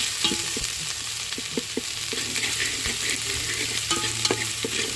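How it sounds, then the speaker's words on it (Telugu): Chicken curry with masala being stirred in a pan, a spoon scraping in steady irregular strokes over a constant low sizzle of frying, close and moderately loud with no talk. "చికెన్ కర్రీ మసాలా వేసుకొని బాగా కలిపిస్తాను"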